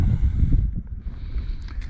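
Wind buffets the microphone in a low, rushing roar that eases briefly midway, then continues more gently, at a winter campsite at Roman Nose State Park.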